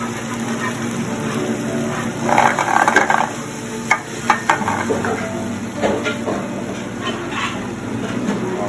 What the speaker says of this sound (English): Let it cook until the garlic gets light brown, right?